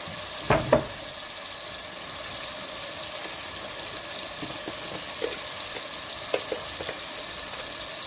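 Chilies frying in oil in a pan, a steady faint hiss throughout with a couple of brief clinks near the start and a few small pops and taps later, no talking.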